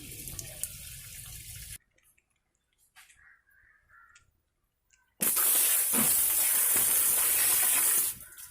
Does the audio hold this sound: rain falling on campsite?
no